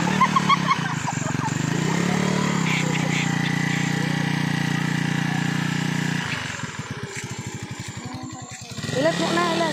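Motorcycle engine running steadily at a constant drone for several seconds, then dropping to a slower, choppy putter near the end, with voices talking over it.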